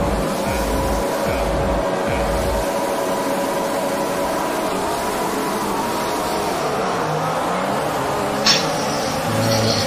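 Formula 1 cars in F1 2021 on track at the French circuit, a steady engine roar running continuously at moderate distance, with a brief higher whine near the end and no talk.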